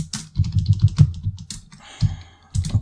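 Fast typing on a computer keyboard, close and clear, with clusters of rapid clicking keystrokes broken by short pauses and a few louder isolated taps.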